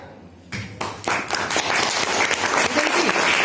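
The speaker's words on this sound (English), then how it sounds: "Just clap." Clapping starts with a few scattered hand claps and quickly swells into continuous applause from a small group, with voices faintly underneath.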